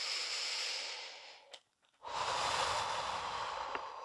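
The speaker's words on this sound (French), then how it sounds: "je vais pouvoir faire une ou deux respirations un peu plus profondes" Two deep, slow breaths drawn and released at the close of a guided relaxation session, each a long, soft airy inhale and exhale heard close with a brief pause between them, and no talking.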